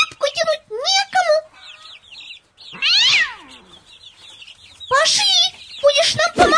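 A cartoon cat meows in a children's animated Repka (turnip) tale. Several short, bright, rising and falling meows come close and clear, set between stretches of cartoon voices and clucking fowl.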